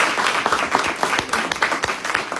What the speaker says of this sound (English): A round of applause to our panel